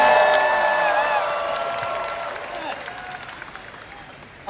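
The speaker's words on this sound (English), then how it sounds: "Give yourselves a round of applause, guys." A convention panel audience in Hall H claps and cheers, a loud wash of applause at the start that slowly fades over a few seconds, with voices mixed in.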